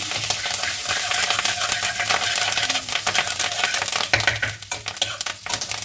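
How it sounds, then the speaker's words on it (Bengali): Chopped ginger, garlic and chilli stir-fry in hot oil with curry leaves for Mumbai-style vada pav, giving a steady, close, dense sizzle broken by repeated scraping stirs, with no talking. "এবার এটা ভালোভাবে একটু তেলের মধ্যে নেড়ে চেড়ে ভেজে নেব"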